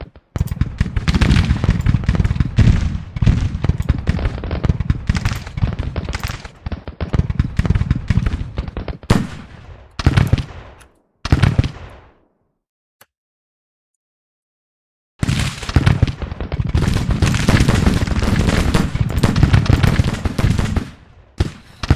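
Loud, dense musket and cannon fire from a Civil War battle game, a continuous crackling barrage of overlapping shots. It cuts out for several seconds of near silence, then the volley resumes just as heavily.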